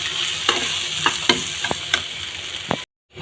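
Potol dolma stuffing, a pointed gourd filling, sizzles steadily in a hot pan while several spatula strokes scrape through it at irregular intervals, close and fairly loud, before cutting off abruptly into silence near the end.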